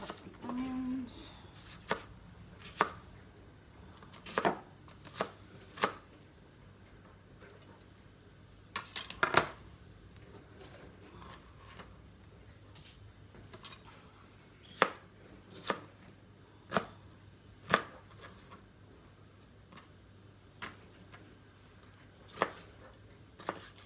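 Knife chopping onions on a board at home while making pumpkin soup: roughly a dozen sharp, separate cuts at an uneven pace against a quiet, steady room background, with no speech.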